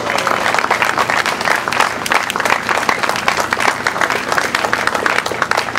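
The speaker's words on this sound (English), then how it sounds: "Let's give a big round of applause" A large outdoor audience in Boston gives a sustained round of applause, dense clapping with a few cheers mixed in, loud and close, continuing steadily throughout.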